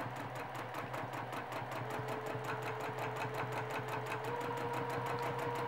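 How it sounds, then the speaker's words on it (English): A sewing machine stitches steadily for free motion quilting, its rapid even needle rhythm running close and loud without pause, with a faint rising whine partway through. "now I can begin my up and down stitching"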